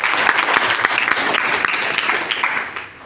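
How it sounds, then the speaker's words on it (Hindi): Loud, vigorous clapping from an audience at a spiritual lecture, many hands beating densely and steadily at close range, then thinning slightly toward the end. "ताली बजाने में भी ये कंजूसी मत कीजिए,"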